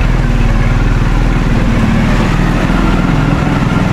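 Motorcycle engine labouring with a strained, pulsing low drone, loud and close throughout with steady rough throbbing and no break.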